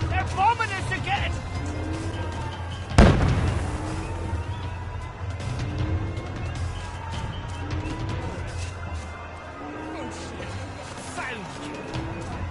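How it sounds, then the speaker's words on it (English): In the video game We Happy Few, one sharp, loud bombing blast booms and rumbles away, with a low background din and voices talking throughout. "They're bombing us again!"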